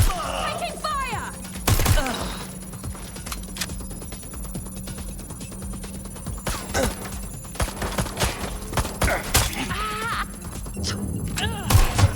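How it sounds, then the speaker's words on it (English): Gunfire in Watch Dogs Legion, with scattered sharp shots and thuds breaking through a steady electronic hum, mixed with bursts of voice chatter. "Engaging the suspect! Taking fire!"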